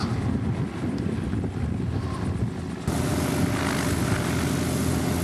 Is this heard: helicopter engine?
yes